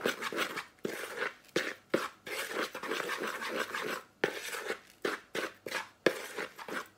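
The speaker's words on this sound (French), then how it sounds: "Je remue." Dry ingredients for keto gluten-free bread stirred in a bowl, a series of close gritty scraping strokes in an uneven rhythm with short gaps, no talk.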